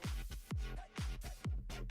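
A reversed reverb vocal swell from a future house track, with reversed washy tails swelling up into each beat of a punchy kick pattern, repeating in a regular, loud rhythm with no talking.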